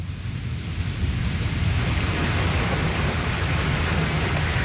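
Steady, loud rain pouring outside a dark house at night with thunder rumbling, a dense continuous wash of noise with a deep low roar underneath, no voices.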